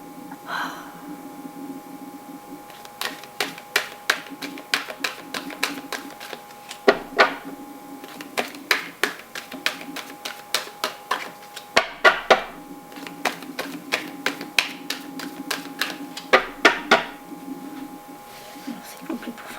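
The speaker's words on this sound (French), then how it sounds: "Alors, je vais ranger les cartes." Tarot cards are gathered and shuffled in a run of quick, crisp clicks and riffling taps that come in dense bursts, close and moderately loud, over a steady background hum.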